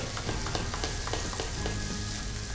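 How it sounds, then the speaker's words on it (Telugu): Prawns in masala fry in a pan with a dense, steady sizzle broken by short stirring scrapes, close and continuous with no talk. "ఇవన్నీ కూడా మసాలాకి పట్టేలాగా ఫ్రై చేసుకోవాలి."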